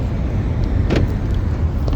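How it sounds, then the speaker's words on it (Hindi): A car being locked gives one short click or chirp midway through, heard over a continuous low rumble of engine and street noise. "गाड़ी को लॉक कर देंगे।"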